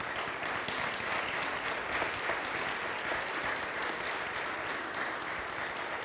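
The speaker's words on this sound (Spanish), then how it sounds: "Le damos un aplauso a Jen." A church congregation applauds steadily and evenly throughout, a dense, sustained roomful of clapping with no talk over it.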